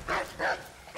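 A dog in the Assassin's Creed 3 game gives two quick, close barks in a row, loud and clipped, with a third starting at the very end.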